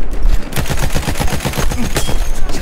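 Rapid, dense gunfire in a Battlefield 1 battle, sharp repeated shots in a fast automatic rhythm, loud and close, continuing without pause.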